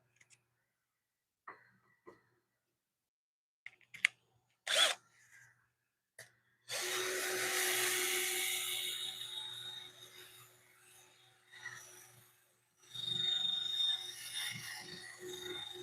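Sandpaper rasps against a wooden bowl spinning on a woodturning lathe. Two sustained passes sound close and moderately loud, following sparse small knocks and clicks.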